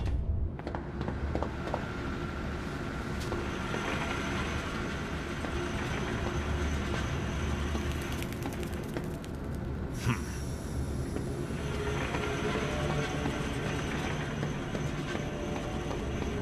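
A zoo train with trolleys rolls along in a video game, a steady mechanical rail rumble with clicking wheel rhythm and a few brief higher tones, continuous and fairly distant.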